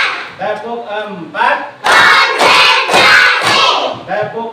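A classroom of children claps hands in unison during a counting clapping chant, with bursts of loud rhythmic clapping and shouting after quieter spoken call-outs from a teacher.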